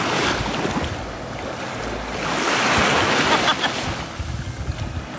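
Sea waves surge and crash on the shore at Koh Kood, a steady roar of rushing surf with wind buffeting the microphone, swelling louder midway and continuing without speech.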